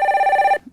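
A telephone rings for an incoming caller on a call-in broadcast, a single loud electronic trilling ring with a fast warbling pulse, close and alone, cutting off abruptly.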